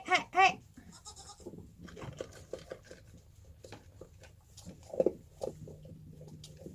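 A goat gives two loud, close bleats in quick succession, followed by soft rustling, shuffling and scattered faint animal noises at a low level.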